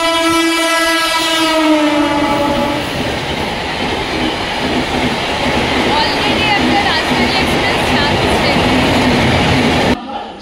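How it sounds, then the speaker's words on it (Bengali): An express train pulls into a railway station platform, sounding loud sustained horn blasts at first, then a steady heavy rumble of rolling wagons and wheels close by that continues to the end. "B1 একটা ট্রেন অলরেডি আসছে"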